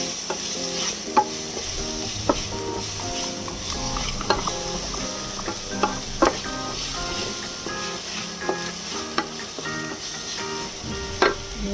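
Garlic fries in the oil left over from frying pork chops, a continuous close sizzle and crackle with frequent sharp metallic taps and scrapes of a utensil stirring in the pan.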